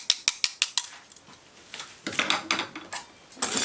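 A hand whisk mixes cookie dough in a bowl: quick, sharp metallic ticks at first, then a looser run of scraping, clattering strokes at a brisk, uneven rhythm.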